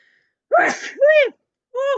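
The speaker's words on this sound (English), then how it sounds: "sneezed" A single loud sneeze bursts out, followed by two short voiced gasping sounds, close to the listener against a quiet background.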